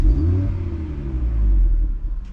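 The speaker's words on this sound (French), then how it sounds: "je vais vous faire écouter un petit peu le son du moteur" An Audi RS3 8V2 engine revs and rumbles nearby, a deep throaty roar that swells and eases over a couple of seconds.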